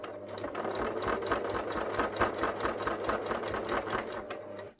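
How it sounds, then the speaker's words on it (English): A sewing machine stitches fabric for a small flat cap made for a memory bear, running in a steady, fast mechanical rattle from start to finish before stopping abruptly. "And then just line it up again because it's moved a little."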